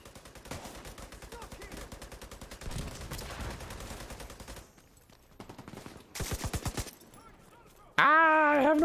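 Sustained automatic gunfire rattles in rapid bursts during a firefight in the video game The Division, loud and close, with short pauses between volleys and a final burst overlapping a tonal in-game sound.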